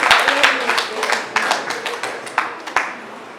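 Audience at a faculty development program lecture clapping hands together, a fairly loud, close burst of many overlapping claps with a few sharp individual hits, lasting a few seconds.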